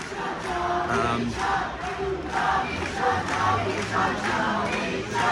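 A large protest crowd gathered at Sydney Town Hall for an Iranian demonstration chants and shouts together in rhythmic bursts, a dense, loud roar of voices that rises and falls steadily.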